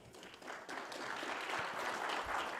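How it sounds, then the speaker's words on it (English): A conference audience gives applause that swells and holds for a few seconds, a soft, fairly distant patter of many hands. "Please give him a round of applause."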